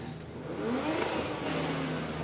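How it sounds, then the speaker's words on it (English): A drift car engine revs up and holds at a high pitch, its tone rising and wavering across a couple of seconds, heard somewhat at a distance at a drifting competition. "Wow, I'm hearing some revs."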